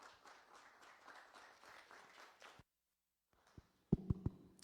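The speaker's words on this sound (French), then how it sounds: "Je vous demande d'applaudir le DG Silin." Applause from an audience at a conference session in a meeting hall, a soft even patter for about two and a half seconds that stops abruptly, followed by quiet and a few louder handling knocks.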